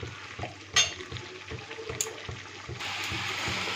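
Spice paste for a drumstick fish curry being sautéed with a little hot water in a pan, with soft rhythmic scraping and stirring taps, a sharp clink, and a steady hiss of sizzling toward the end.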